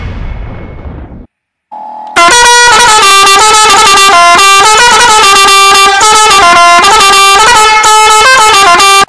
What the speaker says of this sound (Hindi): ये देखो राफेल का हॉर्न बनाया किसी ने इंटरनेट पे